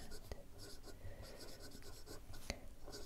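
A fountain pen fitted with a music nib, inked with Diamine, scratches steadily across paper in close, quiet strokes with a few sharper taps, set against a soft room hiss.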